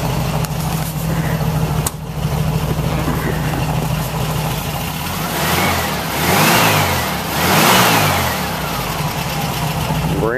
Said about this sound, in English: I'm going to get in and give it a few revs.